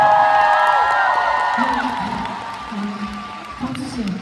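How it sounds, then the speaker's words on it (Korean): A crowd at a fan photo event cheers and claps for a fan, a burst of applause and whoops that gradually fades, with voices mixed in. "저분에게 박수 한 번 보내주세요"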